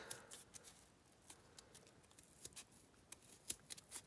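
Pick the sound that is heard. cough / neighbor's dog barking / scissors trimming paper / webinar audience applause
scissors trimming paper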